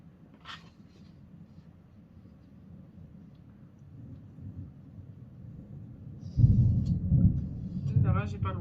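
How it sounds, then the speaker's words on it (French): Nearby thunder rolls in as a low rumble that swells sharply and stays loud for its final seconds, with a brief higher sound near the end. "le tonnerre, il est pas loin"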